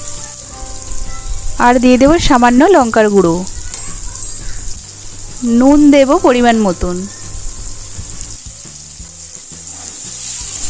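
Sliced ridge gourd fries in a pan with spices, a steady hissing sizzle running beneath a voice that talks through most of the stretch.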